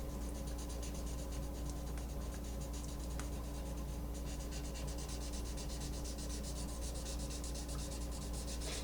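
A graphite pencil shades on paper, a quiet, steady scratchy rubbing made of continuous short strokes with small irregular bursts, close and alone.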